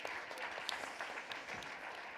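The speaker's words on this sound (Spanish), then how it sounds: "Un fuerte aplauso para Eneko Hacha, un artista de los fogones, gran cocinero y mejor persona." Applause for a chef at a tourism talk event, a dense, continuous burst of clapping from an indoor audience, even and sustained throughout.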